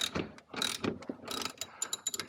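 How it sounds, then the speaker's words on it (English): A ratchet turns a bolt on a K-Tuned rear camber kit being fitted to a Honda Civic EG, giving quick, close clicking bursts in a short irregular run with no talking. "as soon as you put a ratchet on"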